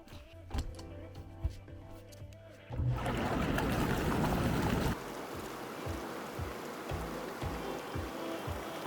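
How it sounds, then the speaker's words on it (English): Hot tub jets at a micro cabin in Salmon Arm, British Columbia: a few light clicks, then a loud rush of churning, bubbling water surges on and settles into steady close-up gurgling. "Hot tub time!"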